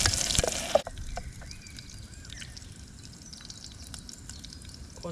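Onion and garlic fry outdoors for corned beef fried rice. A loud burst of sizzle at the start settles into a quieter, steady crackle, with faint birdsong in the background.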